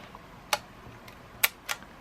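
Three sharp mechanical clicks from a Yashica Electro 35 rangefinder film camera shutter firing, spaced apart and close by, each a crisp bright snap in a quiet room.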